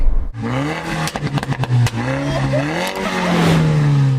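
A Suzuki Jimny engine revs and accelerates up close, its pitch climbing and dipping through gear changes, with a steady drone of road noise.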